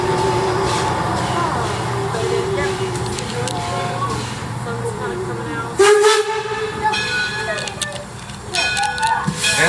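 A Weiser Railroad train at Greenfield Village pulls out of the station, its rumble and rolling clatter running beneath an announcer's voice, with a sharp burst of mechanical noise partway through and rising intensity toward the end.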